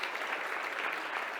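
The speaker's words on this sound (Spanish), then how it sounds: "pido un aplauso para ella" An audience applauds deputy Vero Razzini at a conference, giving a steady, fairly faint wash of clapping throughout.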